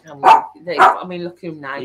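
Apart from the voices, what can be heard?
dog barking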